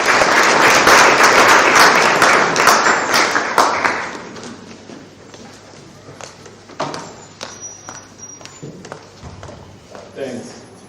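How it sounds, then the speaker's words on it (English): Seminar audience applauding a speaker called to the podium, loud dense clapping for about four seconds that thins into scattered claps and small room noises. "A round of applause, please."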